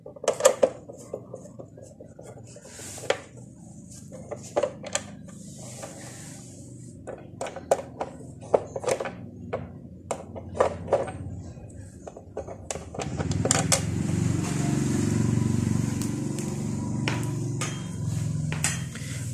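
Sharp metallic clicks and taps come from a screwdriver as two screws are undone on the cover of an electric water heater with a tripping relay. Scattered close knocks lead into a louder rushing, rattling stretch near the end.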